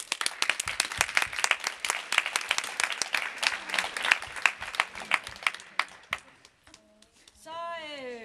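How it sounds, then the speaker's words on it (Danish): Applause at a badminton club championship closing ceremony: dense, sustained clapping from a crowd of hands fades out near the end, followed by a brief murmur and a voice beginning to speak. "alle skal have ros og klap"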